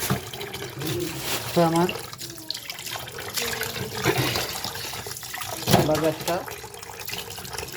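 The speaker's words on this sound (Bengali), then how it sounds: "তো আমি সবগুলো মাছ এভাবে ভালো করে ধুয়ে নিতে হবে।" Tap water runs steadily while fish are washed in a kitchen sink, with splashing and rushing changes in the flow as someone talks over it in Bengali.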